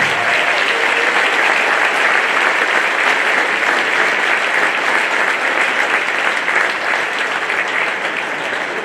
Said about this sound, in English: can everyone please give all veterans and active military servicemen and women a round of applause